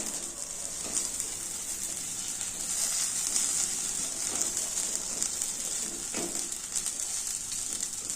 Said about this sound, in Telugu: అప్పుడు పచ్చిమిరపకాయలు వేయించుకున్నామంటే తొందరగా వేగిపోతుంది